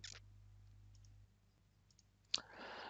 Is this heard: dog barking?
no